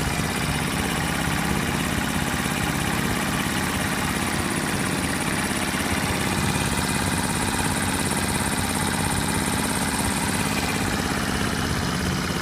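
A small warmed-up Honda motorcycle engine of 50 to 90 cc idles steadily and close by, a continuous even hum with a faint fine ticking that runs unbroken throughout.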